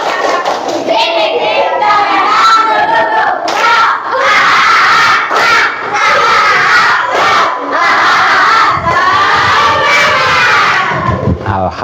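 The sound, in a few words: schoolchildren doing a 'tepuk semangat' clapping chant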